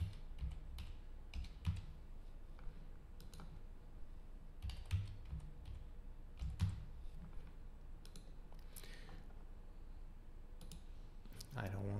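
Someone types on a computer keyboard while setting up a server, making quick bursts of light clicking keystrokes with short pauses, quiet and close, with no speech over them.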